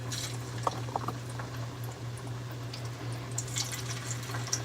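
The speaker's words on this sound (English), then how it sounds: "Start frying them at 400 degrees" Squared-up potato pieces fry in oil at 400 degrees, giving a steady bubbling sizzle with scattered crackles and pops over a constant low hum.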